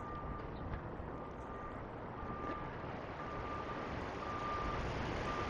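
Steady electronic reversing beeps from heavy equipment repeat at an even pace over a constant rumble of engines and breezy outdoor noise, moderately distant.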